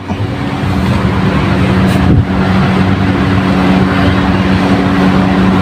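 A 2024 Mitsubishi Triton pickup on a test drive, a loud steady cabin drone of engine and road noise with a single thump about two seconds in, no talking.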